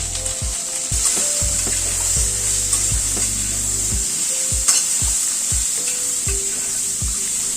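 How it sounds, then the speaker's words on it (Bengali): Vegetables for dal stirred in a frying pan with salt and turmeric: steady close sizzling with repeated scraping and knocking strokes of a spoon against the pan, alone without talk. "নুন হলুদটা মিশিয়ে নিলাম।"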